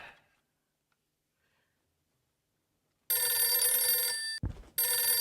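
An old-style telephone bell rings loudly in two bursts after a long stretch of silence, the ringing briefly interrupted by a low thump between them.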